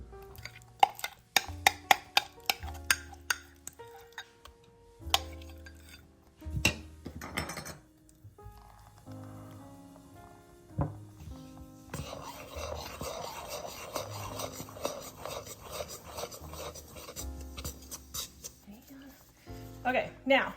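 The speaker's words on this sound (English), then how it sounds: "Then we're going to stir in our chocolate mashed potato mixture." A spoon stirs a chocolate mashed potato mixture into fudge in a pot, giving irregular scraping and rubbing strokes with occasional knocks, with a voice heard at times.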